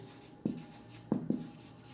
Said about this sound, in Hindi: मैं थोड़ा इधर लिख लेता हूँ